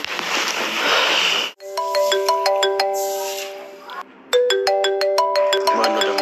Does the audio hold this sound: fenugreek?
no